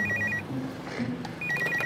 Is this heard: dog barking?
no